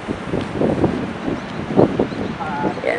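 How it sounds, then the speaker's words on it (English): Steady wind buffets the microphone in gusts on a hiking trail in Jirisan National Park, South Korea, with a low rumble throughout and faint voices murmuring underneath. "Definitely a little windy."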